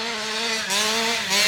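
Rovan 450 XLT short course RC truck fitted with an OBR 47cc case reed engine revving hard, a loud buzzing two-stroke whine that climbs in pitch in short steps over about a second and a half, close by.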